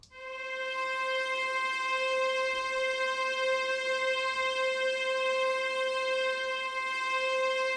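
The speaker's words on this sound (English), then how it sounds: "So these are the violas, and they sound like this on its own." Virtual violas: a sustained bowed string tone, steady and unwavering, holding one note alone with no other instruments, moderately soft.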